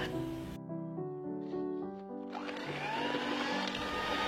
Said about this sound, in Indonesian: Kemudian saya mixer hingga gulanya larut dan warnanya berubah menjadi putih pucat.